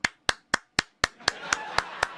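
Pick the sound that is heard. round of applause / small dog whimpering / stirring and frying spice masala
round of applause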